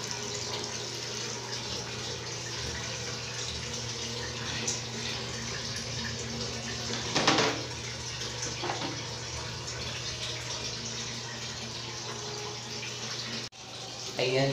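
Water poured and splashing steadily across a bathroom floor during cleaning, a continuous rushing wash with a low hum beneath it that cuts off near the end.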